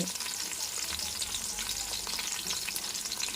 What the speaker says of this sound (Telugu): అలాగే పచ్చిమిర్చి వేద్దాము. ఇవి వేగిన తర్వాత అల్లం వెల్లుల్లి పేస్ట్ వేద్దాము